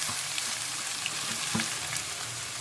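Freshly grated turmeric frying in hot oil with a little asafoetida for a turmeric pickle: a steady, soft sizzle with a few small crackles, heard close up with no talking.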